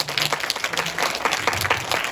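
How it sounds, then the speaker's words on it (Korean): Audience applause at the close of a university lecture on the senior industry, a steady wash of many hands clapping at moderate loudness with no speech over it. "너무나 멋진 최근 동양 시니어 비즈니스 이야기 들려주신 사사키 노리코 교수님께 감사의 박수 부탁드립니다"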